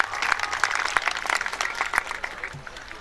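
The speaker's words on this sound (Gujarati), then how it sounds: "તાળીઓના નાદ સાથે આપણે વધાવીએ." Guests at a Saurashtra Leuva Patel Samaj community mass wedding ceremony applaud. The clapping is soft, a little distant, with sharp individual claps in an uneven patter that fades slightly toward the end.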